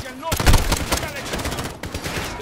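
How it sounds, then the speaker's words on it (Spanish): Rapid bursts of enemy gunfire from the left in Call of Duty: Modern Warfare, dense overlapping shots and a heavy opening volley, loud and close throughout. "Si es que me están disparando de la izquierda"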